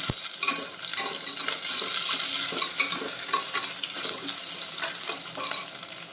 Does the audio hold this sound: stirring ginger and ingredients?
yes